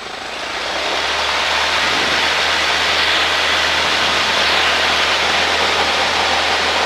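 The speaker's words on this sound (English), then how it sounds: "Skyhawk 51 Victor is taking off on runway 30" A Cessna Skyhawk takes off on runway 30, its propeller engine roaring at full power in a steady, loud, close drone from the cabin, with a constant low hum beneath and no talk.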